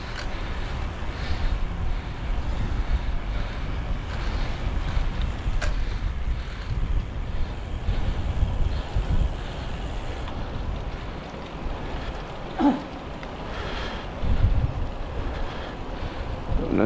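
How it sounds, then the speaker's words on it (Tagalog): Strong wind roars and buffets the microphone steadily on a Bermuda morning near Hamilton, mixed with rushing water and a boat's low rumble. "Mahangin."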